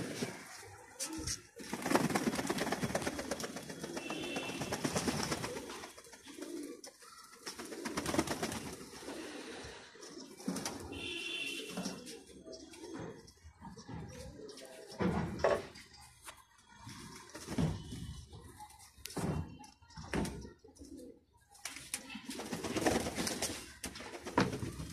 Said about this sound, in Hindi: इन्होंने पानी रखा था, धूप निकली थी, सब स्नान कर रहे हैं कबूतर।